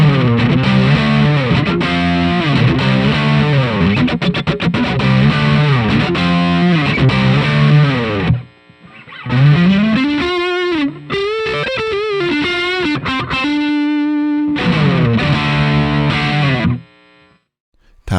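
An electric guitar plays through a distortion pedal, delivering loud, saturated chords and sustained single notes in phrases separated by short gaps, with no voices.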